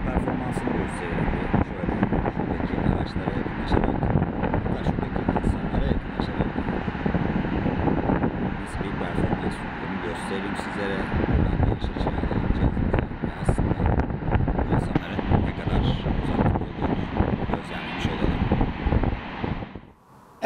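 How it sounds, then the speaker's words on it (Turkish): Steady wind buffets the microphone throughout, a constant rumbling roar with brief gusty swells, while someone speaks now and then beneath it. "Biraz rüzgar da var"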